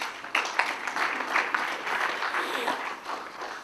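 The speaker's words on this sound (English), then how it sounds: "joined me in applauding and welcoming these guests to this conference" A conference audience applauds to welcome guests, a dense, steady clapping from many hands in a hall that carries on evenly throughout, with no talking.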